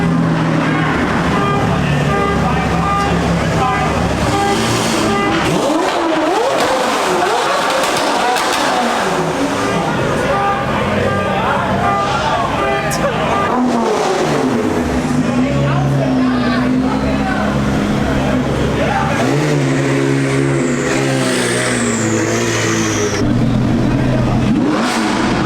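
Loud supercar engines rev and roar continuously as cars pass nearby at a supercar meet in Florida, pitch climbing and falling, with crowd voices mixed into the din.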